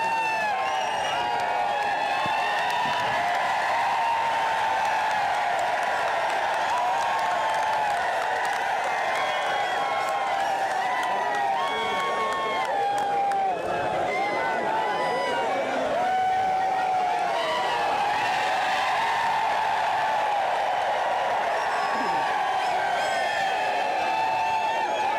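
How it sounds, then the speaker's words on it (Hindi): A crowd at an outdoor political rally in a grain market claps and cheers for a speaker, sustained loud applause mixed with whoops and shouting, with amplified voices over the noise throughout. "एक बार जोरदार तालियां भाई वीरेंद्र गोगड़िया के लिए और अपनी बात रखें।"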